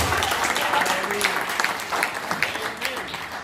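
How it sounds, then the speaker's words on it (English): A church congregation claps hands for the Lord in a sustained burst of applause that tapers slightly, with voices and murmurs mixed underneath. "Let's clap hands unto the Lord."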